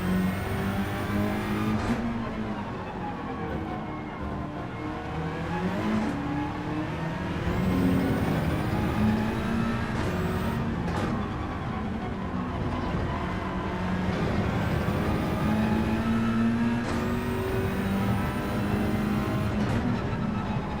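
Race cars in Gran Turismo make a continuous engine drone, with several rising and falling revs and gear-change sweeps as the cars run in a pack, steady and loud with no talking.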